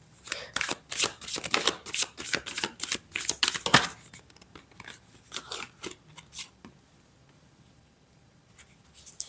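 Cards are shuffled for a tarot-style reading, giving quick, crisp riffling and snapping bursts close by that thin out into a few scattered shuffles and then near quiet.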